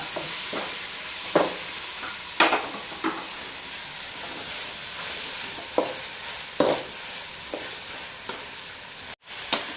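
Tomatoes tossed into a hot frying pan for a coconut milk vegetable biryani give a steady sizzle with scattered stirring scrapes and clinks, close and moderately loud, without any voices.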